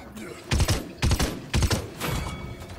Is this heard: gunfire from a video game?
yes